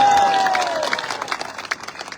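A crowd at a political gathering in Arunachal claps and applauds. A loud burst of clapping fades into scattered, uneven claps and crowd noise.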